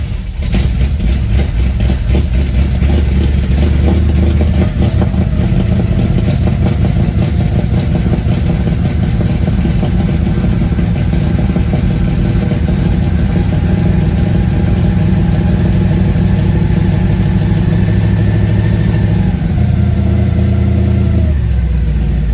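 A 1963 Chevrolet Impala engine idles after a cold start, a loud, close, deep rumble with an uneven, lumpy rhythm and a few slight rises in revs, running alone without talk.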